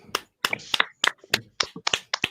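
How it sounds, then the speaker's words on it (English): Hands clap close by in a sharp, uneven burst of roughly a dozen claps, with no talking over them. "Claps from us."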